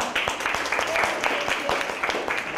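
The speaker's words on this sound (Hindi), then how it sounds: "प्रतीक्षा के लिए तालियां" Children and adults clap during a school music workshop at a primary school, a brisk burst of handclaps with voices talking over and between the claps.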